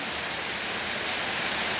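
Heavy nighttime rain pours down at a flooded rural home, a dense, loud, unbroken hiss of drops on surfaces with no voices.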